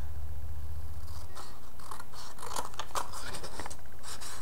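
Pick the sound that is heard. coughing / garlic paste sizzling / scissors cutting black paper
scissors cutting black paper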